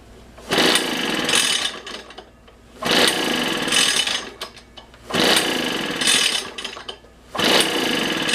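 Echo PB-500T backpack leaf blower with a plugged exhaust, run on choke: the two-stroke engine roars loudly and close in four separate bursts of a second or two, each cutting out to quiet between them, with no voices.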